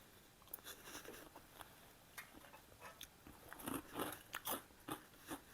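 Crispy pork rinds being bitten and crunched, a series of sharp, close crackling bites and chews that grow louder and denser toward the end, with no talking.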